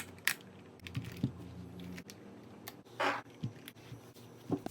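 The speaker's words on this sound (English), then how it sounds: "Typing ASMR." Keys clacking on a Royal Kludge RK84 mechanical keyboard in black: an irregular run of sharp, close taps with a few louder strikes, heard alone with no talk.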